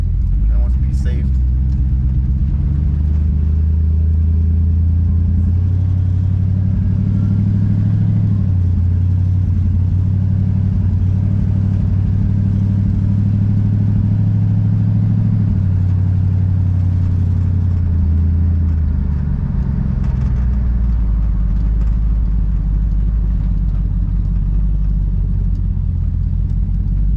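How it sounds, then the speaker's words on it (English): A car with non-working lights driving slowly around a neighborhood, its engine giving a loud, continuous low rumble for the whole stretch, with slight shifts in pitch as it moves. "Driving around the neighborhood a little bit."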